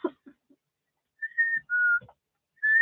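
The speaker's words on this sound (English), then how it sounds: "Somebody was outside whistling." A person whistles outside, a few clear sustained tones in a short tune, fairly close and loud, with faint bumps and clicks between the notes.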